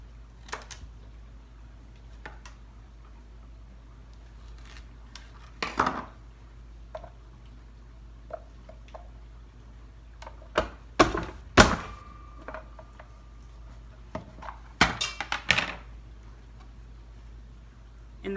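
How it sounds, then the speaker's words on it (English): Big carrots, halved and laid down, are chopped into half-inch squares with a knife for canning: scattered, irregular thunks and knocks of the blade, louder and clustered near the end, with quiet gaps between. "I just lay them in there and chop, chop, chop, chop away"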